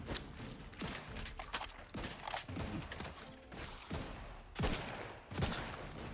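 Gunshots in The Outer Worlds 2 video game, a run of sharp, fairly quiet shots with uneven spacing and two louder bangs near the end, with no talk.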